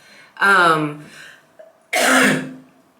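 A voiced throat-clearing cough up close, then a pause and a second harsher, breathy cough; loud and isolated, without speech.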